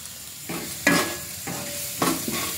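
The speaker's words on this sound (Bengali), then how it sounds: "তো চলো এবার নাড়তে থাকি।" Vegetable chow mein stirred in a frying pan, with several distinct scraping strokes of the spatula over a soft sizzle, close and unaccompanied by talk.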